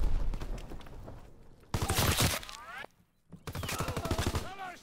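Gunfire in the World War II shooter Call of Duty: WWII, with bursts of rapid shots broken by short gaps and a brief near-silence, while voices talk over the action.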